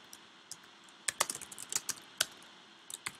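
Someone types on a computer keyboard while working in a word-processing document. Quiet, irregular key clicks come in a few short bursts of closely spaced taps separated by pauses.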